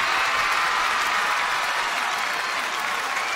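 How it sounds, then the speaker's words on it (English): A large crowd applauds and claps steadily throughout, a dense, continuous wash of hands at even loudness with no pauses. "All those people are clapping for me!"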